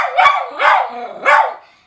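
A stressed pet dog barks three times up close, each bark loud and drawn out into a howling, whining tone, with short gaps between and no talking.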